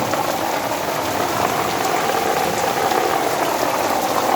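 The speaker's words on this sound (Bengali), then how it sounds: "এত জোরে জোরে বৃষ্টি হচ্ছে, রাস্তায় জল উঠে যাচ্ছে।" Heavy rain roars in a dense, unbroken hiss, loud and close, flooding the road, pouring continuously with no voices.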